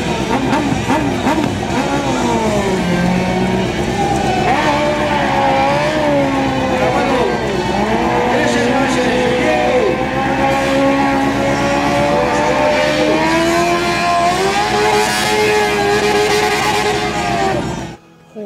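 A quad bike engine revs continuously at a motorcycle stunt show during the Pingüinos 2019 rally, loud and sustained with rising and falling pitch sweeps over crowd and PA noise.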